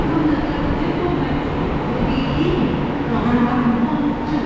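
Chennai metro train pulling into a station, a steady loud rumble and rolling hum throughout with station noise, and a voice speaking over it.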